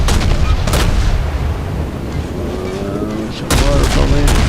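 Loud, dense naval gunfire from a Russian tier IV destroyer, the Izyaslav, in World of Warships, with heavy booming salvos and a roaring wash of battle noise.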